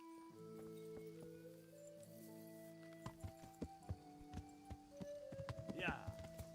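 Horse hooves clopping in the medieval game Kingdom Come: Deliverance, a string of distinct thuds in the second half over sustained tonal background music, with a brief whinny-like sound near the end.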